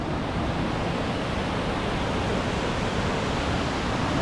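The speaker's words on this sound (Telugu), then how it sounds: "వాటర్ ఫ్లో అయితే గట్టిగానే ఉంది" Kalluru waterfall with a strong flow, a steady, dense roar of rushing water that stays even and loud throughout with no voices.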